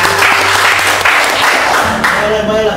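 Loud, dense applause from an audience at an Indonesian army aviation talk event, a steady roar of clapping for a couple of seconds with voices mixed in near the end.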